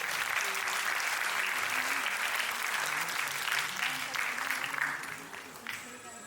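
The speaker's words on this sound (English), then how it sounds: "A big round of applause for Rani ji" An audience applauding at a kathak performance event, dense sustained clapping from a crowd that holds steady for several seconds, then thins and fades toward the end.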